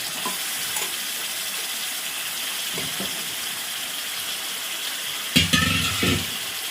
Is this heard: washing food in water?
yes